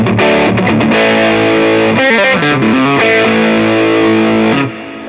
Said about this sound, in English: We've added it here into the SD1W in custom mode.